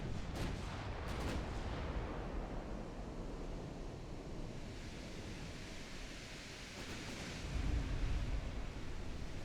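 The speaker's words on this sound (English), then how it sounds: "Yeah, we get some more torpedo hits here." Torpedo hits on a Kentucky battleship in a naval warfare game come as dull, heavy booms over a constant roar of sea and wind noise, with a deeper, louder impact near the end.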